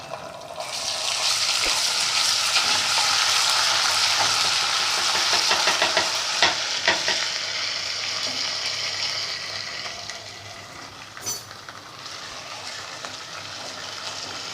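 Ginger and garlic fry in hot oil with onions, a loud close sizzle with scraping spoon strokes as they are stirred, easing into a softer hiss in the last few seconds.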